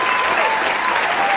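A mushaira audience gives a thin, lukewarm round of applause, a dense even wash of clapping filling the moment without any voices over it.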